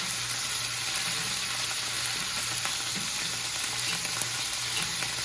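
Beef stew meat sears in a hot pan with a loud, even, unbroken sizzle and a fine spatter of crackles that hold steady from start to finish.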